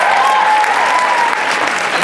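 Dense, steady applause from a convention crowd fills the space throughout, loud and continuous, with a faint whistle or cheer riding on top in the first moments.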